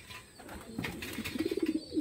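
Racing pigeons bathe in a loft with a few soft wing flutters, while gentle throaty coos pulse in a short run near the end. The sounds are faint and close, with no talking.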